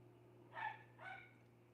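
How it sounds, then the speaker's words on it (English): A neighbor's small, yappy dog gives two short, sharp barks about half a second apart. They sound fairly faint, as if from next door, over a low steady hum. "I really do apologize for my neighbor's yappy dogs"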